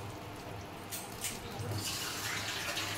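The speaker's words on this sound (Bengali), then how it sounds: "এবার পাট শাকে জল দিয়ে দেবো।" Water poured from a vessel onto jute leaves in a pressure cooker, a steady splashing gush that grows fuller toward the end, close and fairly loud with no talk.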